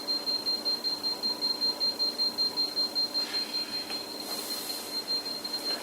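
An electronic detector keeps beeping during a paranormal investigation, a rapid steady train of high pulses running throughout at moderate level over a faint background hum.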